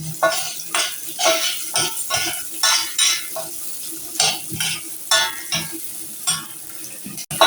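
Fenugreek seeds fry with onion in a pan, stirred in a run of distinct scraping bursts over a soft, steady sizzle, close and without speech.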